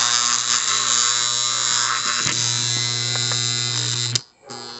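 A chattering electrical contactor buzzes loudly and steadily with a strong mains hum and harsh rattling overtones, cutting out abruptly near the end before briefly returning.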